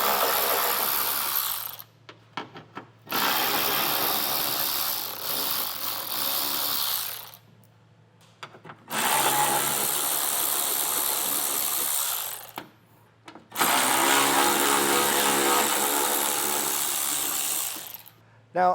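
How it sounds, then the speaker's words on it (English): A ratchet with an 8mm socket backs out fascia screws on a 2018 BMW during a trailer hitch install, giving long runs of rapid clicking and whirring broken by short silent pauses, close and loud. "So we'll get these taken off with an 8mm socket."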